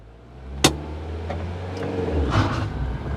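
A car sits idling as the handbrake is released for a hill start during a clutch control lesson, with a sharp click followed by a low engine hum that rises slightly as the car begins to pull away.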